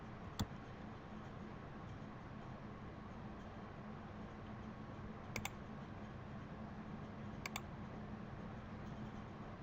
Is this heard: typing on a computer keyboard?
yes